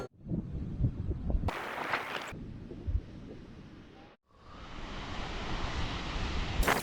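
The Itlyat-lyar waterfall in Kunzakh, Dagestan, gives a broad, steady rushing roar, with wind buffeting the microphone and a few abrupt cuts and level changes.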